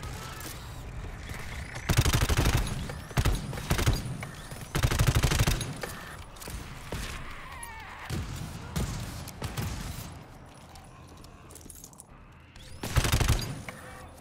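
Gunfire in the co-op horror shooter GTFO, with loud bursts of shots in separate clusters, mechanical clicks, and quieter stretches between volleys.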